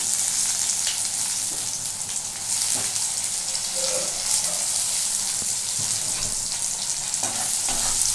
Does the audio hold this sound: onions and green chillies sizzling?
yes